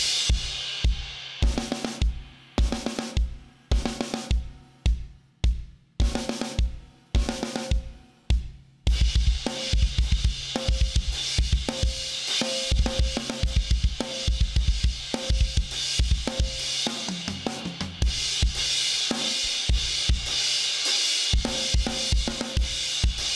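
Drum kit playing the interlude of a rock song: sparse, heavy kick and snare hits with gaps at first, then a dense, driving groove with steady cymbals, played alone at a loud, even level.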